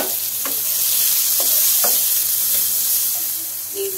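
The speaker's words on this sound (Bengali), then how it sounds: "তেলের মধ্যে আমি পেঁয়াজ রসুন দিয়ে কুচি করে রেখেছিলাম," Chopped onion and garlic fry in about a tablespoon of oil in a pan for pasta, a steady bright sizzle with a few soft stirring scrapes on top, close and alone.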